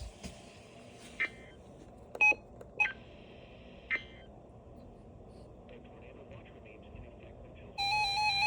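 Emergency Alert System tones for a tornado warning, issued by the National Weather Service in Wilmington: a few short sharp beeps spaced apart, then a sustained electronic alert tone starting at the end, faint background hiss.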